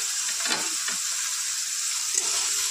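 Chopped onion and garlic fry with green chili in hot oil for a Bengali green leafy vegetable dish, giving a bright, steady sizzle with a couple of soft stirring scrapes before it cuts off abruptly.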